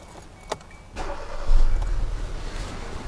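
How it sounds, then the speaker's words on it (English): A car engine with a misfiring cylinder, coil swapped from cylinder one to two during diagnostics, cranks after a couple of clicks and catches, settling into a rough, steady idle nearby. "Let me start the engine again"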